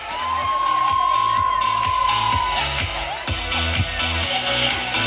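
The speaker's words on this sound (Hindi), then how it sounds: "एक बार जोरदार तालियां बजनी चाहिए फॉर ऑल द बुआस" An audience at a sangeet wedding celebration cheers and whoops for the aunts after their dance performance. The lively crowd noise carries over loud, thumping music, with a sustained tone near the start.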